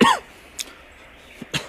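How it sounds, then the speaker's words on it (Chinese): A person coughing inside a livestock farm with ammonia-laden, dusty air: a voiced cough at the start, then two more short, sharp dry coughs spaced about a second apart, close and fairly loud. "我只要一到养殖场来就咳嗽"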